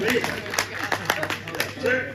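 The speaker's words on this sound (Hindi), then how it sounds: "तालियां बहुत बढ़िया।" Audience at a Hindi comic poetry recital claps in scattered bursts through a steady hum of a live hall, moderately loud, with no clear talk over it.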